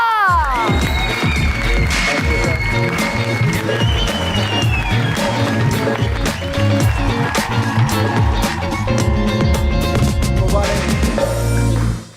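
Studio audience applause and cheering welcoming Ramiz Raja onto a TV talk show stage, a loud sustained wash of clapping with music underneath, filling the room throughout.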